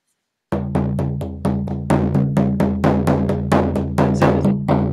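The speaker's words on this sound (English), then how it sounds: "I'm gonna drum for about 5 minutes." A hand drum struck in a steady, even rhythm for a guided journey, each beat loud and resonant with a lingering ring, repeating about three times per second with no talking.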